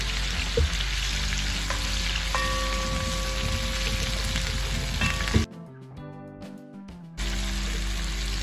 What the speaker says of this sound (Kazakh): Енді қызып тұрған қазанымызға қуырып аламыз.